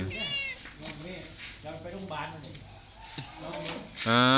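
An injured cat with a broken leg, bone exposed, meows repeatedly in short, strained cries mixed in with close conversation, and a louder meow closes the clip.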